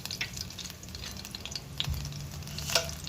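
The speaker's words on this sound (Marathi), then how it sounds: "आता तेल तापलं की त्याच्यामध्ये आपण हा ठेचलेला लसूण घालणार आहोत प्रथम फोडणीसाठी लसूण छान परतून घ्यायचं आहे" Crushed garlic sizzles and crackles in hot oil in a pan as tempering for a Malvani fish dish, a steady close frying hiss with occasional stirring clinks and pops.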